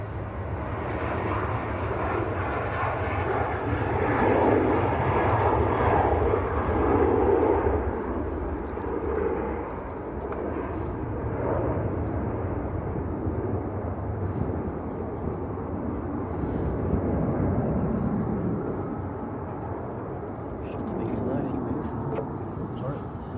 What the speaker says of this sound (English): Ryanair rolling away.